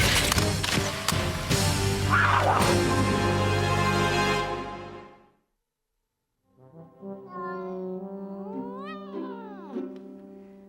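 A cartoon cat meows in a drawn-out, wavering cry, fairly close and clear. It follows a loud, noisy burst that cuts off into a moment of silence.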